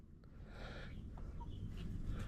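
A lone rooster kept in the middle coop of a backyard poultry pen gives a few soft, faint clucks over a steady low rumble.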